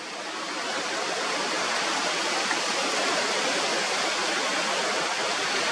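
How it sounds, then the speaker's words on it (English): Strong wind blows at a coastal overlook facing La Conchita Beach, a loud, dense, unbroken hiss that holds steady throughout. "And as you can see, it's windy as heck."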